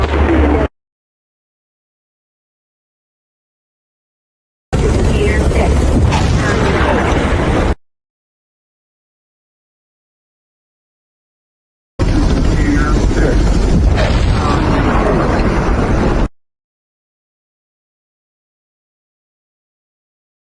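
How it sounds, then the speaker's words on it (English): Two loud bursts of movie explosions, each lasting several seconds with crackling debris and deep booms, set apart by silence, with a short fragment of sound at the very start. "This is a series of explosions."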